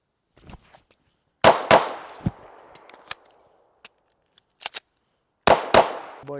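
A new carry handgun fires sharp, loud shots while the shooter moves, in paired bursts with gaps between them, plus fainter clicks and metallic clatter from the gun handling.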